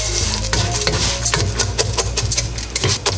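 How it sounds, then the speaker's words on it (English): Rice fries in super-hot oil for Mexican rice, with a loud sizzle under repeated scraping and clinking as a utensil stirs it around the pan. "We're just gonna fry the rice."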